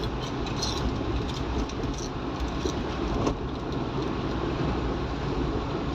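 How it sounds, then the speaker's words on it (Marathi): Auto rickshaw running at about 40 km/h on a rough, badly potholed road between Ghargaon and Alephata, giving a steady loud rumbling engine and road drone with rattling throughout and no talking. "आपली रिक्षा एवढी पळते 40च्या स्पीडला."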